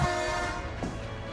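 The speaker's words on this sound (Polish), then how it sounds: "Pociąg?" A train horn sounding in the Barycz Valley, a sustained tonal blast that holds steady for over a second with a slight shift partway through.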